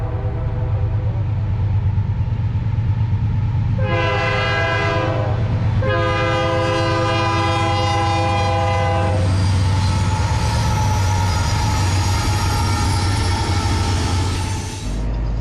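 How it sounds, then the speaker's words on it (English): A train rumbles steadily nearby while its horn blasts twice in long tones, followed by rising wheel clatter and screeching as the cars roll past. "after this train goes by"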